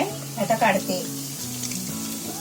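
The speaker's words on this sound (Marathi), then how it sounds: "हे बघा असे चांगले भाजतात आहे." Aloo bonda fritters frying in hot oil for a fasting-day chaat, a soft steady sizzle under a woman's brief speech, continuing faintly after she stops.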